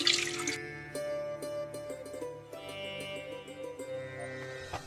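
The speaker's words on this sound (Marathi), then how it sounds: "5 वाटी पाणी घ्यायचं." Water poured from a bowl into Indrayani rice in a pot for cooking, a short running splash with light clinks of the vessel, close and alone with no talk.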